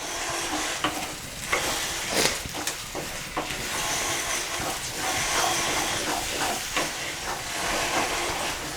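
Egg bhurji stirred in a hot pan over a medium flame, continuous sizzling and hissing with repeated spatula scrapes and taps, close and fairly loud, no voices.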